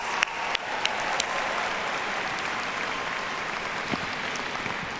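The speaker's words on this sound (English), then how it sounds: "let's give them a round of applause." A large audience at an MBA graduation ceremony applauds in a dense, steady wash of clapping that holds at an even level throughout, with a few sharper claps standing out near the start.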